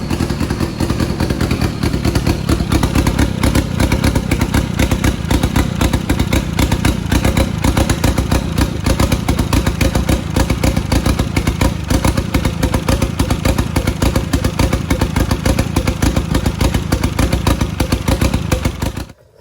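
Cammed motorcycle engine idling with new 1300cc fuel injectors, a loud, close, continuous rough idle with fast clattering pulses and no talk.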